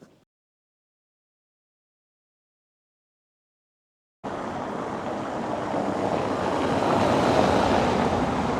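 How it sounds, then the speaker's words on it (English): A full river rushing near a bridge in Hawes, Wensleydale, a broad steady roar of water that cuts in abruptly after silence and swells slightly louder toward the end, no talking. "You can hear the river."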